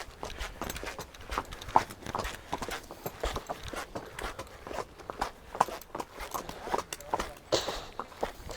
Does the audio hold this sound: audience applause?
no